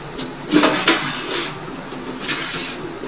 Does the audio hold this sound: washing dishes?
yes